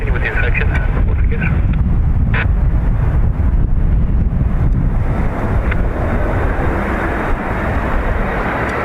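Heavy wind buffeting an outdoor microphone beside Dublin Airport, a loud, constant low rumble and gusty roar with a few brief sharp knocks and a faint aircraft drone beneath.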